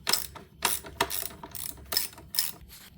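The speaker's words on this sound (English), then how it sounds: "Now we're going to take our 10 millimeter, put it on the back side of this brake lever, take it off." A 10 mm socket wrench removes a brake lever bolt on a KTM SX-E5 electric motorcycle, giving close, quick bursts of ratcheting clicks in an uneven rhythm.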